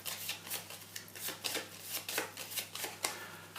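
Playing cards being shuffled by hand, a quick series of crisp riffling snaps and slaps close by, with no talking.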